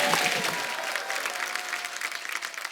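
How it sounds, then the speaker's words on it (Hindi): A studio audience at a comedy talk show bursts into loud, dense applause that fades slightly after the first half-second and then carries on steadily, with scattered crowd noise mixed in. "जोरदार ताली हो जाए"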